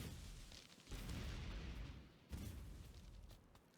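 Two heavy grenade blasts from Factorio tear through trees, one near the start and another a little later, each a broad booming burst trailing into rumbling debris noise.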